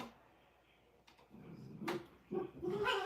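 A dog whimpers and gives a few short, faint barks nearby, in brief bursts that grow louder toward the end, inside a quiet home.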